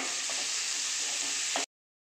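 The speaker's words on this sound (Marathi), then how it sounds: "हे जे उकडलेले बटाटे आहेत हे चांगले परतून घ्यायचे" Boiled potatoes stir-fried with a little turmeric in a pan, giving a steady close hiss and sizzle with light scraping until it cuts off abruptly.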